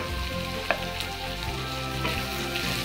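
Potatoes frying in hot oil with turmeric, a steady, dense sizzle throughout with one sharp utensil tap early on and soft stirring scrapes later, no voices.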